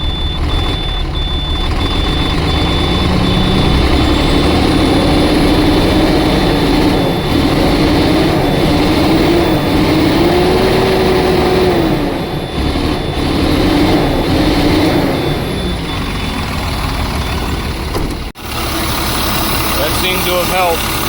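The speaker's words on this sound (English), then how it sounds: "It idles pretty smooth. However, it's got a stumble, I think. I can feel a little slight miss." An old engine idling after sitting unused for years, running steady and loud with a slight miss, under intermittent talk and a faint repeating beep.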